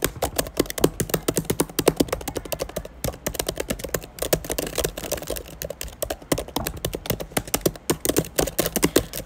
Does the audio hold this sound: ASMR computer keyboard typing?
yes